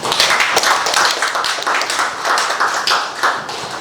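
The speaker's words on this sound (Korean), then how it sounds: "이렇게 박수 한번 어른님께서 한번 주셔야 되지 않겠습니까?" Audience at a city mayor's first-anniversary press gathering breaking into applause, a dense, continuous patter of many hands clapping at close to moderate distance, with no voices over it.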